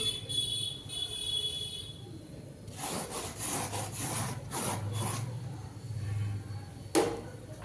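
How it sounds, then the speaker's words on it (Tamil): Semolina roasting in ghee with fried cashews in a pan, stirred with a spoon in steady scraping, rasping strokes, close and moderately loud, with a brief knock near the end. "இப்போ அடுத்தது ரவையை கொட்டி இப்போ இதுவும் ஒரு கிளறிக்கலாம்"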